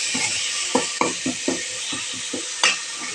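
Steady sizzling in a hot pan with repeated soft squishing and scraping strokes as tomatoes are pressed and broken up for rasam, close up.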